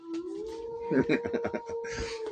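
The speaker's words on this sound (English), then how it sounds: "That's one howl for Yasha." A drawn-out howl sound effect, a single long rising tone held steady over rhythmic broadband bursts, fairly loud and close.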